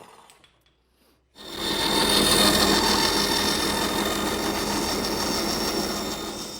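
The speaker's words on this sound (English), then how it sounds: "for these tight areas, I use my jigsaw" A jigsaw cuts wood for cupboard cutouts in tight areas, starting abruptly after a brief quiet moment and then buzzing steadily and loudly as it saws through the board.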